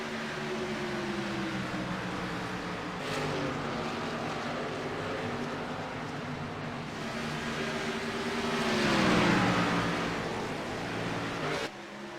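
Race cars battling for position at The Rock racetrack in a Rising Stars Series event, engines droning loud and continuous with rising and falling pitch as cars pass, swelling near the end as one roars close by.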